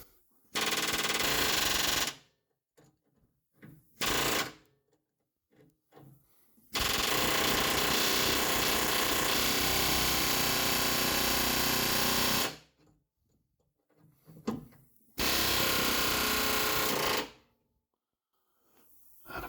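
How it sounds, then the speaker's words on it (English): A pneumatic air hammer drives a rivet through a truck frame at a leaf spring hanger, loud rapid rattling bursts of varying length separated by short pauses, the longest run lasting several seconds. "there's the air hammer set up. We're going to just see if we can't drive this dude on through."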